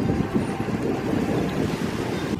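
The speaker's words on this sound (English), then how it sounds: "It's getting a little bit windy out here." Wind blows across the deck of a boat on the water, a loud steady rush with low buffeting against the microphone, no talk.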